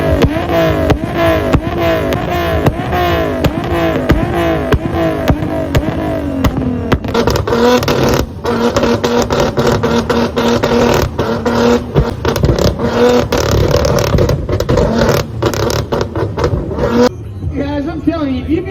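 A car with a flame-spitting exhaust at a loud exhaust competition revs hard with its turbo, a loud sustained roar with rising and falling engine pitch and sharp crackles and pops, crowd voices mixed underneath.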